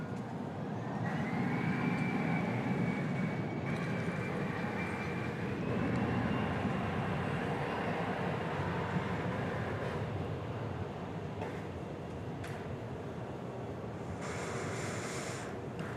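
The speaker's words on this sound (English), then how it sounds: "There's the rollout of Flight 1304 from Los Cabos in Mexico." An Airbus A321 rolling out after landing at DFW Airport, a steady distant roar of engines and rushing air that swells slightly and then fades, with a faint rising whine under broad rumble.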